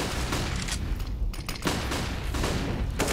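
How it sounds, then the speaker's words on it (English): Counter-Strike match on Dust 2 with flashbangs popping and rapid gunfire, dense overlapping bursts of shots and bangs throughout, loud and continuous. "Flashbangs all over the place."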